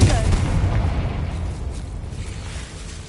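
A Confringo blasting spell bursts in the Hogwarts Legacy video game, a loud explosive boom at the start rolling into a sustained low rumble that slowly fades.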